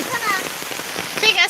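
Rain falls on a village, a brief dense patter of drops with a faint voice murmuring under it.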